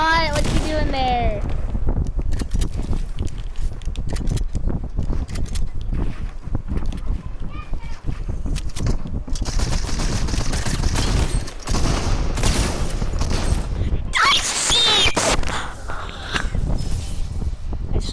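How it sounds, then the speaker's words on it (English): Gunfire in a multiplayer shooter game rattles almost continuously for the whole stretch, loud and dense, while a person talks over it. "I shot the freaking gun."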